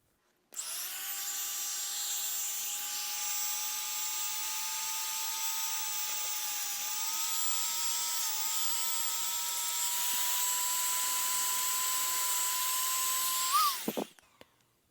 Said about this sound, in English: I am going just to take my Dremel again and sand that real quick just to smooth it out